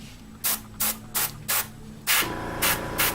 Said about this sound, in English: So we're spraying at really low pressure.